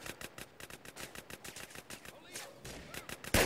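Rapid, evenly spaced gunshots crackle from a police video game, played online with a Desert Eagle pistol. The shots are quiet and steady, ending in a sharper burst.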